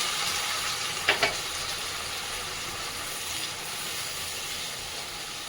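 Paste of three onions, a piece of ginger and garlic frying in a pan, a steady close hiss of sizzling oil with a brief pair of clinks early on, no talking.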